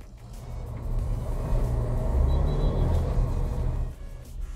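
A 2021 Volkswagen Tiguan TSI petrol engine's low rumble swells as it revs and accelerates, then eases off, heard from inside the SUV without talking.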